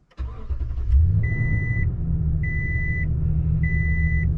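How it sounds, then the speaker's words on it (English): A 2021 Toyota Tundra TRD pickup idles with a deep, steady low rumble from its stock exhaust, while three evenly spaced electronic chime beeps sound over the engine. "I like the rumble that the truck has straight off the lot."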